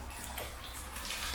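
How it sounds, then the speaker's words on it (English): Steady rushing water flowing through a medieval culvert swollen by heavy rain, a constant broadband wash of flowing water with no pauses and no voices. "The water flowing."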